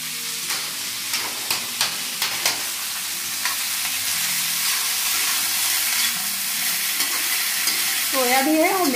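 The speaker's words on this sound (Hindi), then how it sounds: "वो लहसुन भुन रहा है" Garlic sizzles in a pan in a home kitchen with a continuous frying hiss, a series of spoon taps early on and a short rising tonal whine near the end.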